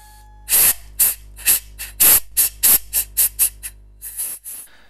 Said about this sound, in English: Just using the airline to clear away the swarf and paraffin before I turn the material over and do the other side.